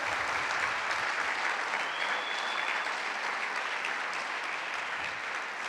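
A church congregation applauds God during a Sunday service, a dense, steady wash of many hands clapping at once that stays loud and even for the whole stretch, with no talking over it.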